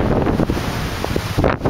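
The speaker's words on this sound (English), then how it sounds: "drained and it is blowing, man. It's windy." Strong wind blows across a lake, roaring steadily and buffeting the microphone for the full stretch, with gusty rustle and surges but no voices.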